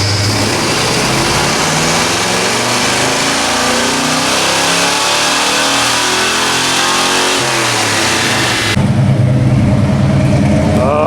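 A 502 big block Chevy V8 revs hard on a DynoJet dyno, a loud sustained roar climbing through the rpm range, then cutting sharply to a rough, lumpy idle near the end.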